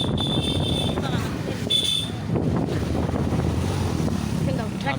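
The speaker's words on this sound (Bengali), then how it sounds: "বাতাস উঠছে, বাতাসও লাগতেছে অনেক" Strong wind buffets the microphone in cold, drizzly weather, a continuous loud low rumble with gusts that lasts the whole clip.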